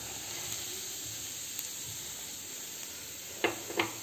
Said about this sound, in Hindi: घी गरम हो चुका है, अब हम इसमें एक कप सूजी डाल देंगे।